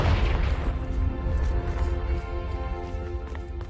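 A Confringo blasting spell explodes in the game Hogwarts Legacy, a loud, dense booming burst right at the start that rumbles on with crackling debris and a long fading roar across the whole clip.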